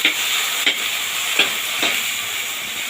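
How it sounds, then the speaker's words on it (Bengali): Onion, ginger and tomato paste frying in hot oil, a steady loud sizzle with a few soft stirring scrapes over about three seconds. "এবার দিয়ে দেবো পেঁয়াজ আদা টমেটোর বাটাটা বেশ ভালোভাবে এটা কষাবো যতক্ষণ না তেল ছাড়ে"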